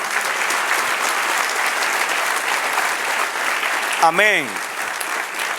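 Church congregation clapping together in a sustained burst of applause that fills the room evenly, with a voice calling out near the end.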